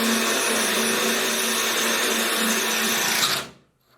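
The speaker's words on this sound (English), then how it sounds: "I'm not going to drill all the way through the ceramic tile because I don't need a hole that large." Power drill boring into the surface of ceramic tile while installing a shower seat, a loud steady high-pitched whine and grinding that runs continuously for several seconds, then stops abruptly.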